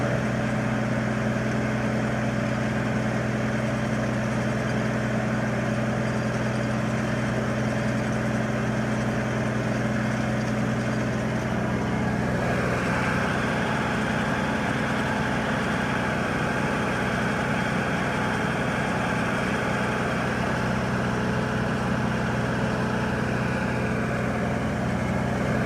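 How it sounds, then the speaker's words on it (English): A tractor engine runs steadily while driving at about 5 miles an hour in a weed-control field setting, a continuous low droning hum with no talk, holding an even level throughout. "I was also driving a tractor."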